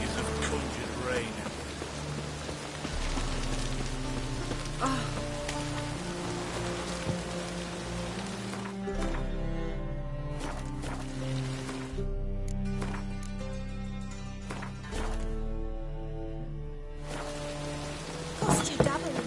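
Steady rain hiss conjured by witches in a PS4 Viking video game, running continuously beneath game music with tonal layers, a few brief bursts and a louder clatter near the end.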